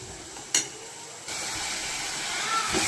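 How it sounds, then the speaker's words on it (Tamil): Chopped onions sautéing in a pan, with a soft, steady sizzle and hiss that swells after a brief click and holds at a fairly low level. "இப்போ நல்லா இது வதங்கட்டும்"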